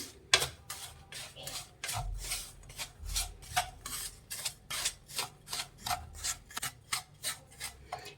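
A spoon stirring fried cashews and raisins in ghee for rava laddu, a steady run of short scraping strokes against the pan at an even rhythm, close and fairly quiet, with no voices.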